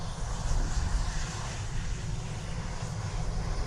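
Transavia airliner passing at Dublin Airport gives a brief, moderately loud low engine rumble, steady and fairly distant, with no voices.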